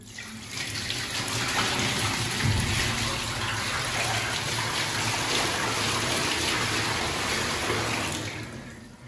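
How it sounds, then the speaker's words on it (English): Clean water poured from a bucket into a freestanding copper bathtub, a steady close rushing splash that runs for about eight seconds and then tapers off, with no talking. "Let's pour a bit of water for the first time down into this bath"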